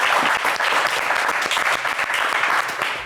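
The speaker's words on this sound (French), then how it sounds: "Applaudissons-les très très fort" An audience claps loudly and steadily, dense applause filling the whole moment without a break.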